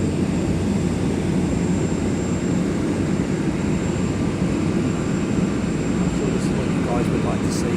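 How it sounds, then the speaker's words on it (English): A West Atlantic aircraft taxis on the airside apron at East Midlands Airport, a steady low engine rumble and whine holding level throughout, with a faint thin tone above and a couple of brief ticks near the end. "So the West Atlantic taxiing out."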